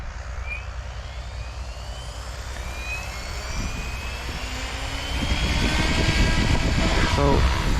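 An RC helicopter fitted with a Spirit FBL flybarless system spins up its rotor, a steady whine and hum that climbs in pitch and grows louder toward the end, with someone talking nearby.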